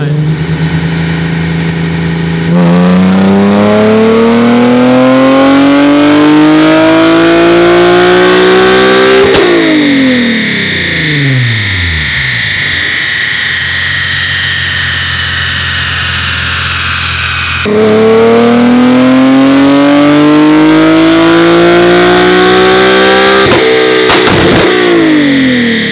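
A Nissan 370Z fitted with a Stillen intake accelerates hard through several gears, its engine note climbing loudly in long sweeps, each broken by a brief drop at the shift before rising again.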